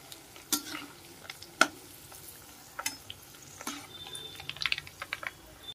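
Dried red chilies frying in hot oil for an instant tomato pickle, a soft, low sizzle broken by scattered clicks and a few sharp taps of stirring, close and quiet.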